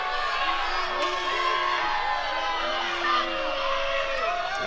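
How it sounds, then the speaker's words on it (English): Wrestling audience at a Prestige show cheering, whooping and yelling in a dense continuous roar, with individual shouts rising out of the crowd noise throughout. "As this crowd makes their opinions known."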